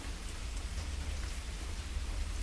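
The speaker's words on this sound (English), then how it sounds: "the raindrops fell to the ground" Steady rain falling on the ground, a dense continuous hiss with low rumble, moderately loud and unbroken, with no voices.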